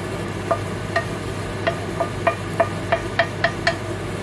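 A spoon stirring a thick mixture of melted camembert and butternut squash for a gratin, with a series of sharp, clicking scrapes against the dish coming in an irregular rhythm that quickens toward the end, close and distinct.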